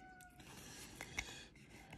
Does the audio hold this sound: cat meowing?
yes